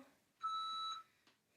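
An exercise timer gives a single steady electronic beep lasting about half a second, close and clear against a quiet room, followed by a faint click.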